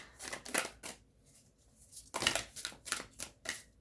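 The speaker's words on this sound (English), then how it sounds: "I'm struggling with shuffling your guys' cards" Several bursts of crisp tarot card riffling and shuffling, close by, separated by short pauses.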